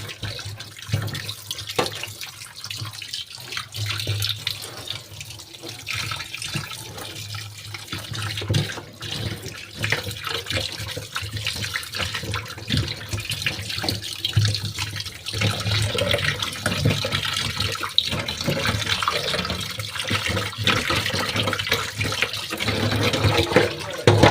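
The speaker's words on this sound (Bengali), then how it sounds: "মাছটা আগে আমি খুব ভালো করে ধুয়ে পরিষ্কার করে নেব।" A fish is washed under running tap water in a kitchen, a steady close splashing stream with sloshing and handling noises continuing throughout.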